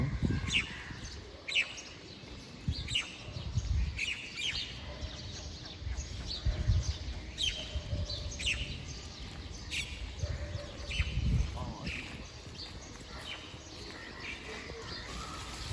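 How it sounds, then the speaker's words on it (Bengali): On a cold, foggy early winter morning in Dhaka, many birds chirp and call at varying distances, the repeated short tweets scattered over a low rumbling background with occasional murmured voices. "ভোরে অনেক পাখির কিছু কিছু শব্দ"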